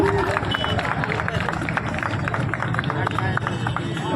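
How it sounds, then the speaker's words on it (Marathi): A crowd at a marathon prize ceremony in Lonavala claps for a runner named Amol, with steady, dense applause mixed with chatter and the hubbub of a busy outdoor gathering. "टाळ्या वाजवा जरा अमोलसाठी"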